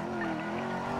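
Car engine running steadily in a GTA roleplay game, a continuous droning hum with a faint tire squeal, close and constant throughout.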